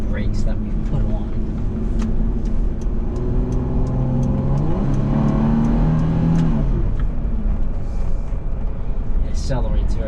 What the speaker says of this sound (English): It accelerates very nicely as I just did there.